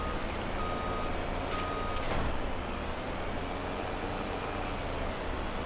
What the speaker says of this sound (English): So let's now get this lorry attached to that tanker